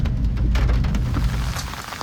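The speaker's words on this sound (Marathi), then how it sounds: "पाऊस काही थांबायचं नाव घेत नाही आहे" Heavy monsoon rain pours steadily and loudly on the road from Mumbai to Alibaug, a dense, unbroken hiss of water hitting surfaces close by.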